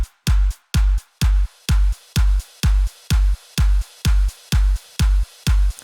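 Electronic drum loop: a heavy, booming kick lands with a sharp clap or splash-like hit in a steady, evenly spaced pattern, about two hits per second, loud and dry with no voice.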